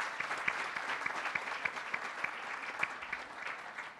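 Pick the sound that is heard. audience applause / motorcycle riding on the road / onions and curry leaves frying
audience applause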